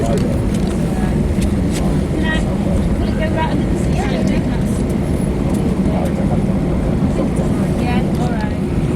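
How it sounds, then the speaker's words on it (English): An airliner on its takeoff roll roars steadily in a dense, broad cabin rumble that holds without break, with faint voices murmuring underneath. "this made the first of 2 takeoffs today"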